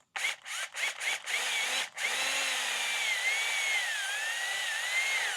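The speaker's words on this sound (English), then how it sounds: "I'm going to drill it out" A power drill with a step bit starts and stops in several short bursts, then runs steadily with a whining pitch that wavers as the bit bites into material, drilling a hole.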